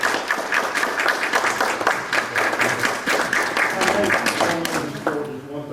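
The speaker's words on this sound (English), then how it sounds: "I just want to give you a round of applause" Applause at a county board of commissioners' regular meeting, with moderate clapping from a modest group that carries steadily and then tapers off as voices begin under it at the end.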